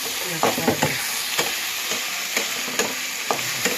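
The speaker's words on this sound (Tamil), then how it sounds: "நானும் கொஞ்சம் வதக்கி பார்க்குறேன்." Prawn gravy being sautéed in a pan, with a steady frying sizzle broken by repeated scraping stirs of a spoon against the pan, close and fairly loud, no talk.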